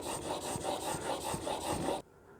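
A blade is stroked back and forth on a sharpening stone to raise a burr, giving a steady rasping rub in even repeated strokes, close and clear, that cuts off abruptly near the end.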